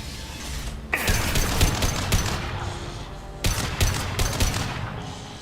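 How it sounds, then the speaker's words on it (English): Sustained gunfire in the Mass Effect 2 video game, dense rapid bursts of shots with mechanical clatter, a short lull near the middle before heavy firing resumes, loud and close. "Taking some fire, Shepard."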